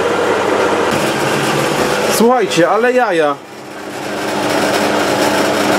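Three bench drill presses, one a Parkside PTBM 500, run together with a steady mechanical hum. Someone speaks briefly over them partway through, then the even drone carries on alone.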